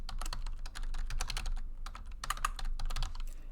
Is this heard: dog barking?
no